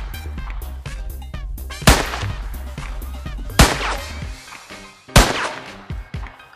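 Sharp, punchy bow shots in Minecraft crack out about three times at irregular intervals over busy game sounds, each with a quick decaying thump.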